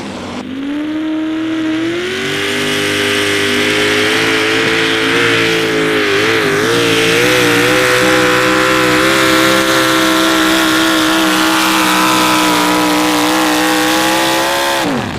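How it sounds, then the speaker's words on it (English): A modified 4x4 pulling truck roars at full power during an outlaw truck pull in Concord, Nebraska, its loud, sustained engine drone holding steady with small pitch wobbles for about fifteen seconds. "Lots of power in that truck"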